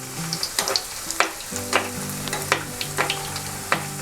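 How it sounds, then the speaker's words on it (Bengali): Mughlai paratha deep frying in plenty of hot oil in a pan, steady sizzling broken by repeated clacks of a utensil and spooning of oil over it, close and fairly loud, no voices. "দেখুন আমি ডোবা তেলে এটা ভাজছি।"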